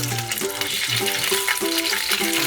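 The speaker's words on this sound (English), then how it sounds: "So now that we have a hot pan here, I'm going to pan sear the beef." Beef sizzles as it sears in a hot pan, a steady crackling hiss with a few tonal scrapes and clinks from stirring mixed in. It is close and moderately loud, with no talking.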